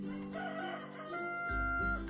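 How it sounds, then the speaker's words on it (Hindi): A rooster crows in a short, fairly quiet cock-a-doodle-doo, heard alone with a low thump near the end. "और दरवाजे के पीछे है मुर्गा।"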